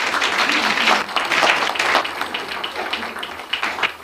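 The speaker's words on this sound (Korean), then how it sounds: "박수로 맞아주시기 바랍니다." An audience at an indoor gathering gives a short burst of applause, dense clapping that rises and then thins out over a few seconds.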